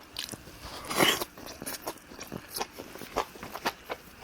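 Plain food eaten without a vegetable wrap, bitten and chewed close up, with repeated crisp crunchy bites in an uneven rhythm and a loud crunch early on, no talking.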